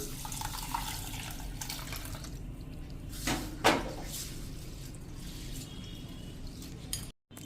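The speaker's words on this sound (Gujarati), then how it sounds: "તો હવે આને હું 2 થી 3 પાણીએ ધોઈ નાખું છું।" Rice and urad dal are rinsed in water for dosa batter, with swishing and sloshing in a bowl, a brief splash partway through, close and fairly quiet.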